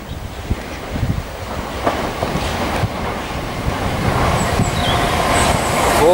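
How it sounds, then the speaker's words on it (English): Gatwick Express class 442 electric train passing through Preston Park station, a steady rushing rumble with wind buffeting that builds and stays loud over six seconds, no voices. "There comes Gatwick Express,"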